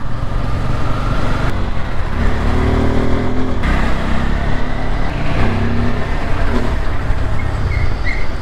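A 2023 Bajaj Pulsar N250 motorcycle, a 250cc bike with dual-channel ABS, rides through traffic, its engine droning and rising in pitch under constant road and wind noise with other vehicles nearby.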